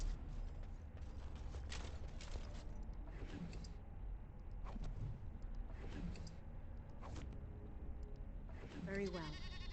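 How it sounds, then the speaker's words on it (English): Faint goat bleats rise a few times over a low game ambience in Dragon Age Origins, with a louder wavering bleat near the end, partly under talk. "in the world do I hear goats,"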